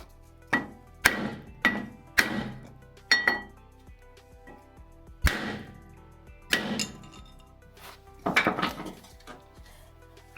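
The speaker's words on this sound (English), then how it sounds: "now we're gonna try a wooden block and a hammer" Several sharp, hard knocks of a hammer on a wooden block while working on a Toyota Supra, spaced irregularly with pauses between, each strike ringing briefly and loud.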